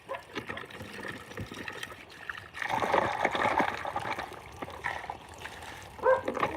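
A dog splashing and lapping at water in its dishes, wet slapping and trickling bursts mid-clip with a brief louder splash near the end, fairly close, no talking.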